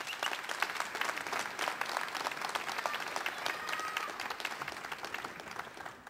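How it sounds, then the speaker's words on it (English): Audience at a Christmas radio event bursting into sustained applause, dense clapping that stays loud and even throughout before easing slightly near the end. "And you deserve an applause also."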